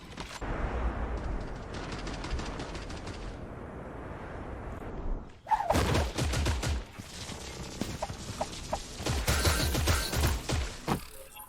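Rapid video game gunfire from Creative Destruction: dense automatic bursts in the first half, then a louder barrage of sharp repeated shots and impacts, with no speech.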